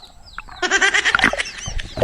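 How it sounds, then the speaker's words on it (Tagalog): Busy, loud clucking and squawking from several chickens, starting after a quieter moment and continuing densely throughout. "hindi lang isda marami pati mga manok marami napakaingay nila"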